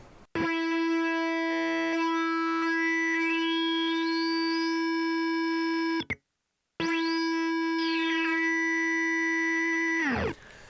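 A buzzy, harmonic-rich tone from a PLL guitar pedal's multiplier glides upward in pitch, cuts out briefly, then returns and sweeps up again before stopping abruptly.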